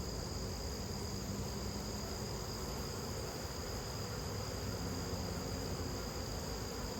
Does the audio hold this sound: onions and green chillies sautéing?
no